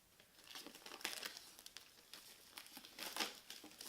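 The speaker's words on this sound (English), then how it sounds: "taking off the plastic" Plastic wrap crinkles and crackles as it is peeled off a MacBook Pro box, in several close, quiet bursts of crumpling with brief pauses between them.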